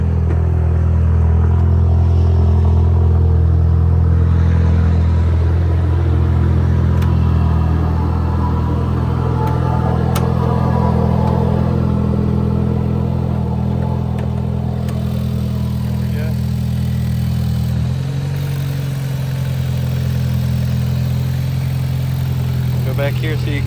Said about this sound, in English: Basically just hear the turbo spooling.